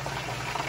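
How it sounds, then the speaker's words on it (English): Orange chicken sauce of spices and liquid ingredients simmering in a pan, a steady close bubbling hiss that fills the whole brief moment without pause. "after about 5 or so minutes of your spices and the liquid ingredients cooking up"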